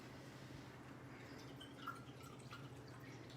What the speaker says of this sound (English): So we're going to do about 2/3 of a cup of apple cider vinegar